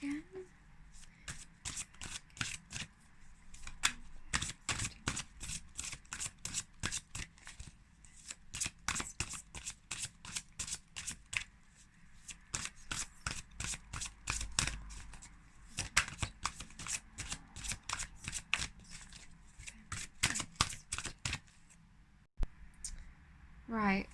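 A deck of oracle cards is shuffled over and over in quick, crisp riffling bursts that keep a steady rhythm, close and fairly quiet, with a few soft clicks near the end.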